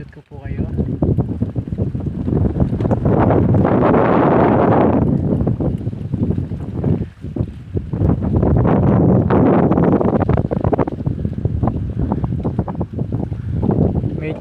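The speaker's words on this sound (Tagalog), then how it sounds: "Medyo malakas po yung hangin." Strong wind buffets the microphone at a beach in Barangay Pactoy, Marinduque, a loud, continuous roaring rush that surges in gusts and dips briefly around the middle before rising again.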